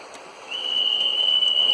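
A sustained, steady whistle tone from a Märklin model train set, carrying an SBB ICN passenger train behind an Re 460 locomotive, starts about halfway in and holds to the end, fairly loud over quiet room hiss, with no talking.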